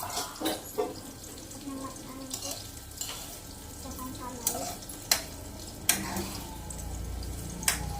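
Food stirred in a cooking pot, with repeated scraping and clinking strokes at an irregular pace over a low background sizzle, and people talking faintly nearby.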